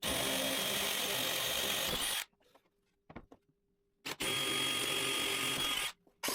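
A power drill bores jig holes into a wooden shelf in two loud, steady bursts of whine, split by a quiet pause with faint clicks and handling noise.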